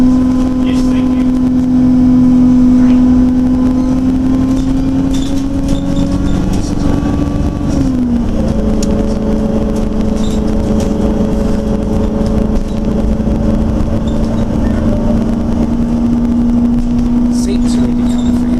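An Alexander Dennis Enviro 200 bus engine runs steadily from inside the vehicle, a loud continuous drone whose pitch dips and shifts as the revs change, with faint rattles on top.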